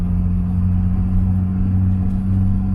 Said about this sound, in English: Let's see if we could do a downshift, a double clutch downshift here.